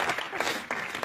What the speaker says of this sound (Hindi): ये चारों के लिए बहुत बहुत ताली।